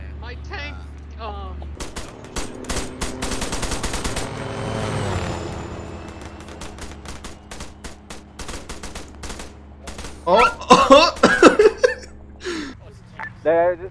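Rapid gunfire in Arma 3 as infantry fight an enemy tank, dense bursts of shots and heavy weapon fire through the first half, then sharper close cracks near the end, with voices talking over the battle.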